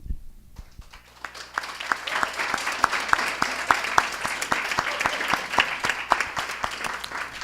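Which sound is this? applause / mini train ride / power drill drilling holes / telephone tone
applause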